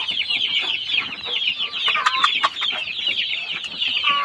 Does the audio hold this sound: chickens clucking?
yes